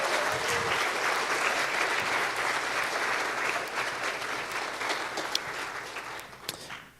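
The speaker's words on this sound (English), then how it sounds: "Can we give our panelists and Ashley McDermott a round of applause?" An audience applauds panelists and Ashley McDermott at a Sunrise Movement gathering in Asheville, a sustained crowd clapping that holds steady for several seconds before thinning out near the end.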